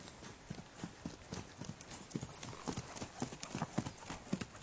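Horse hooves clip-clop in a steady, even rhythm as the horse is ridden on a loose rein during a riding lesson, moderately near with no talk over it.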